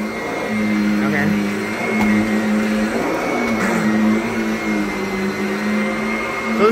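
Robotic vacuum cleaner driving itself around a room, a steady whirring motor hum with shifting pitch and occasional bumps, close and loud, with a voice talking over it.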